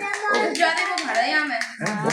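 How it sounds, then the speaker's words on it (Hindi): A child claps hands in quick repeated claps over a couple of seconds at a birthday celebration, mixed with voices talking close by. "बेचारा ताली बजाते बजाते थक गया।"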